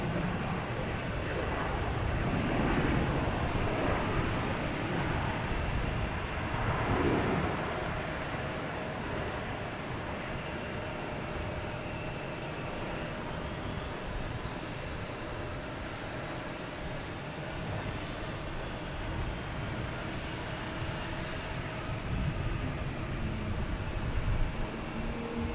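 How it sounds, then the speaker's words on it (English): A JetBlue airliner comes in to land at Boston Logan Airport from Pittsburgh, passing over a cruise ship, heard as a steady distant broadband jet roar with breezy outdoor noise, holding fairly constant throughout. "The JetBlue over the cruise ship coming in from Pittsburgh."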